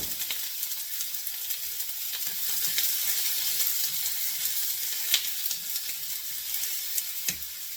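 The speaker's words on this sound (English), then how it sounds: "I'm going to saute my onions up" Onions sauté in olive oil in a pan, a steady soft sizzle with occasional louder crackles and pops, close and continuous, with faint stirring scrapes.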